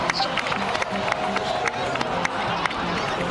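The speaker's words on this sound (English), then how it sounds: "please give another round of applause for them" A video game crowd claps and cheers continuously at moderate distance, a steady wash of applause with scattered shouts and music faintly underneath.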